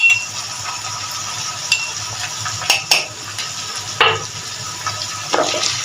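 Coriander powder is stirred into softened tomatoes in a pan for kadhi pakora. A spoon scrapes and clinks against the metal in several distinct strokes over a soft, continuous frying hiss.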